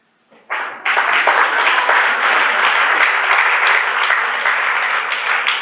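Audience applause breaks out after a recited Tamil poem at a motivational speech, a dense, steady wash of many hands clapping that starts abruptly and holds loud and even throughout, with no talk over it.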